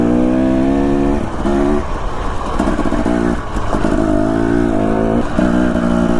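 A dirt bike ridden through Idaho mountains in spring, its engine revving up and easing off again and again, close and loud, with no voices over it.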